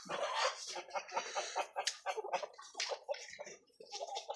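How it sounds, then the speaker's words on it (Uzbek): Black Shagzoda roosters call in short, raspy bursts that rise and fall, close by, mixed with clucking and other poultry noise. "Juda katta bo'lib qichqirib nima bo'lib qolgan, bosyapti, ishlayapti"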